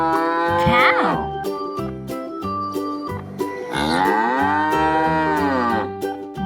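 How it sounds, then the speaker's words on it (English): A cow moos twice, loud and close. Each call is a long, drawn-out low to rising moo, and there are short pauses around the calls. "What is the sound of the cow again?"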